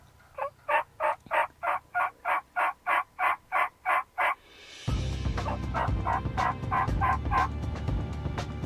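Wild turkey hen calls on a frosty Nebraska hunt: a steady run of about a dozen evenly spaced yelps, then a wash of background noise with continued yelping and clucking layered over it.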